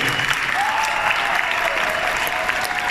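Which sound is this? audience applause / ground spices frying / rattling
audience applause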